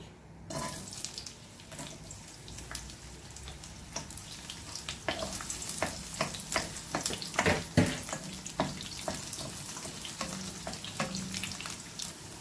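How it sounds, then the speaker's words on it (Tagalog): Garlic drops into hot cooking oil and fries with a steady crackling sizzle, close and fairly loud, with sharper pops and bursts scattered through it and no talk. "Dahil mainit ng ating mantika, ilagay na natin ng ating garlic."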